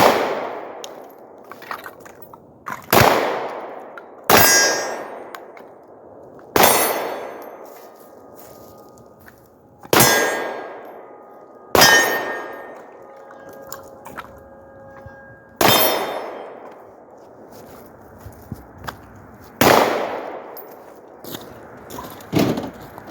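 A Glock 17 pistol fitted with a Holosun 507 ACSS sight fires about a dozen loud, sharp shots at uneven intervals. Each shot rings out with a short decaying echo, and there is near silence between them.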